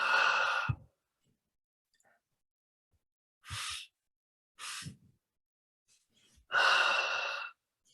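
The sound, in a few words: slow meditative breathing, inhaling and exhaling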